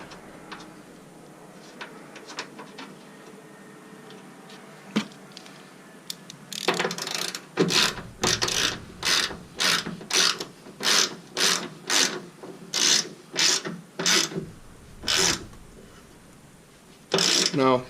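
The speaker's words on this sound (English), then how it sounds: "let's get this little bolt back in there and we'll snug everybody up" A ratchet wrench tightens a small bolt on a ditch light bracket on a Gen5 4Runner, starting with faint clicks and then settling into a steady run of loud, evenly spaced ratcheting bursts up close.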